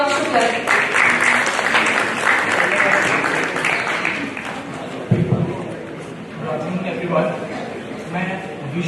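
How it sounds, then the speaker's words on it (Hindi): Sustained applause from a large audience at a student parliament event, welcoming a student speaker to the stage; dense clapping fills the room throughout, with crowd murmur and voices mixed in. "तालियों से स्वागत करेंगे अनुराग शुक्ला जी"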